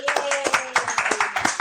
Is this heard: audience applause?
yes